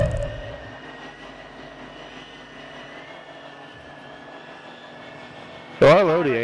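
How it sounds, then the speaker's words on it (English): In a military shooter game, a recon drone hums overhead as a steady, droning engine tone, with voice comms at the start and end. "Recon drone overhead."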